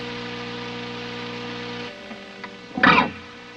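A buzzing, heavily fuzzed guitar tone through a fuzz pedal sustains, then cuts off, followed by a few faint clicks and a short burst of noisy distortion.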